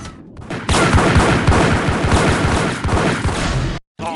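Rapid, dense gunfire from a Max Payne shootout, a loud sustained burst of overlapping shots that runs nearly four seconds before cutting out abruptly, with a brief return at the very end.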